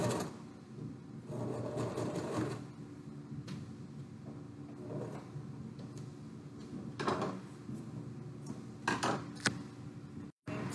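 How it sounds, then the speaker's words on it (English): A sewing machine runs in short bursts while back stitching, quiet and close, with pauses and soft handling clicks between the runs and a sharp click near the end. "at the end, I'm going to back stitch one more time"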